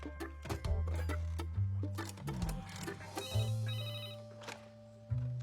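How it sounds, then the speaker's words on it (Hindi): A telephone rings steadily over a busy music-like background with percussive hits, the ringing fairly loud and close throughout. "बट्टू गुलाब को फोन करता हूँ।"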